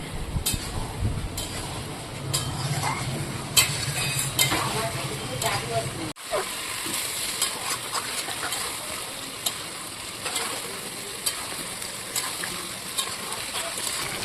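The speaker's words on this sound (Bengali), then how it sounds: "তো দেখো রান্না কিন্তু ভালোই চলছে আমাদের।" Mutton curry cooks in a pot in a shop kitchen, with a continuous close sizzle and bubbling, occasional stirring scrapes and clinks, and voices now and then beneath.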